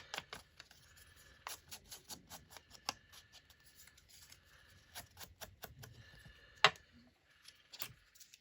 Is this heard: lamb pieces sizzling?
no